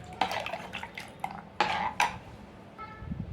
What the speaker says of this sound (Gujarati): સહેજ આપણે ગરમ મસાલો નાખશું અને આપણે મિક્સ કરી લઈશું આ રીતે.